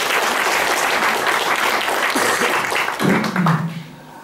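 An audience in a concert hall gives lively applause to a performer from Podporozhye in the Leningrad region, the dense clapping holding steady before thinning out as a voice begins near the end.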